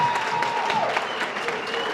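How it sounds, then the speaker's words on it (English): Audience applause fills a business workshop hall in Katlehong during a pitching competition, a steady wash of clapping from many hands throughout, with no talk over it. "a round of applause for Makosini."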